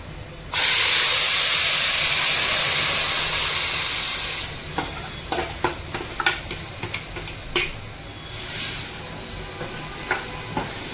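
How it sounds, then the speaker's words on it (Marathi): Tempering hitting hot oil for bombil fry, opening with a sudden loud hiss that fades over four seconds into crackling pops and stirring sounds, no talking. "हे बघा मंडळी आता फोडणी घालतोय"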